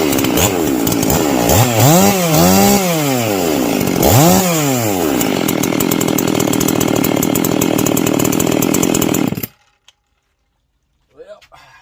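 A rebuilt Husqvarna 262xp chainsaw, converted from a 261xp, runs loud and close, revving up and down twice before holding a high steady scream, then cutting off abruptly with brief faint sounds afterward.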